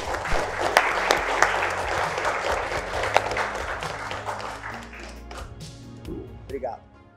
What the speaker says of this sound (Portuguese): Eu queria dar uma salva de palmas bem alegre.